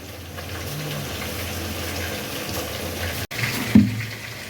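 Water runs steadily from a kitchen tap while broccoli, carrots and string beans are washed, a continuous close splashing stream that briefly cuts out and then resumes with a louder gush.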